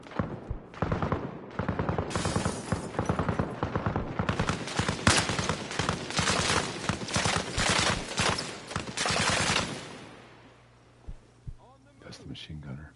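Sustained machine gun fire from a military shooter game, Arma Reforger, rattling in dense rapid bursts for about ten seconds, then a few scattered shots as it tails off, with voices talking underneath.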